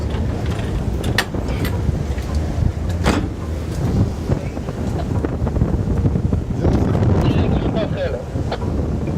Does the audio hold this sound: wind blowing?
yes